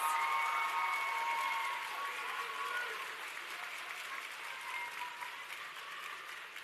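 Audience at the WSA 2025 closing ceremony clapping for medal winners, sustained applause that starts strong, then slowly thins and softens, with a few brief whistles or squeals near the start.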